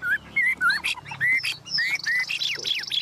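A caged Chinese hwamei songbird sings close and loud, a rapid run of clear whistled phrases, slurred rising and falling notes and sharp chirps that follow one another with brief gaps.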